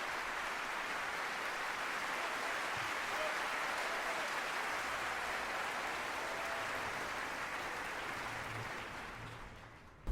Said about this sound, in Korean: 지휘자가 등장해서 관객에게 인사할 때까지 박수로 격려를 합니다